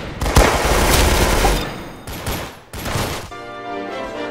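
An MG42 machine gun fires in the video game Arsenal, a loud dense burst of rapid shots that stops and restarts briefly, ending in a ringing metallic tail.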